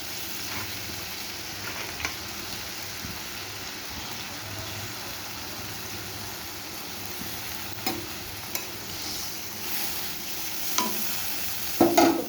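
Pieces of bhola fish in a pan produce a continuous hissing sizzle, with a few scattered taps and clinks that grow busier toward the close.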